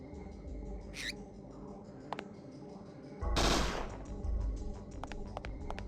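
Bursts of rapid gunfire from the Parasite Eve 2 video game, a loud dense volley in the middle followed by scattered sharp shots and clicks over steady game background sound.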